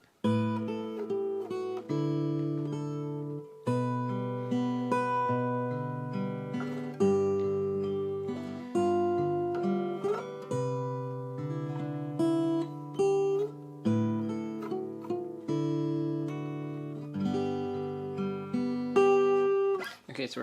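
Fingerstyle guitar plays the outro of a song, with picked bass notes under a slow melody and ringing chords, played close and solo for about twenty seconds with no talking.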